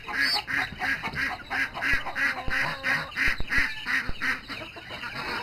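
Rhythmic clucking and honking fowl calls repeat steadily close by, with chickens gathered near a garden worm and a few sharp knocks in the background.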